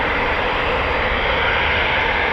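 A Eurofighter Typhoon FGR4 taxis out at RAF Coningsby, a loud, steady broadband jet engine roar and whine filling the air without a break.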